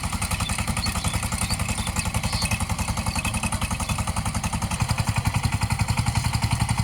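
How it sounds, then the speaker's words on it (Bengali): The 14-horsepower fuel-efficient engine of a ploughing vehicle runs at a steady idle, a loud, close, rapid chugging clatter with an even rhythm that firms up slightly toward the end, with no talk. "তেল সাশ্রয়ী ইঞ্জিন চোদ্দ গোড়া অনেকটাই তেল সাশ্রয়ী এই ইঞ্জিনে"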